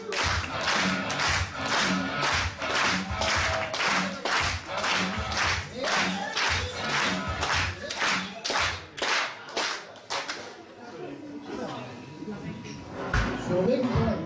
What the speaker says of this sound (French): je vous demande de lui faire un tonnerre d'applaudissements